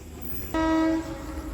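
A train sounds a short, loud horn blast of about half a second over a low background rumble; no voices.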